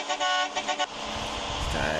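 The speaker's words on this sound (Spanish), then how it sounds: "Está el claxon, la bocina." A loud, blaring truck horn in a truck driving video game sounds in a few quick pulses, then gives way to steady engine drone with a lingering tone.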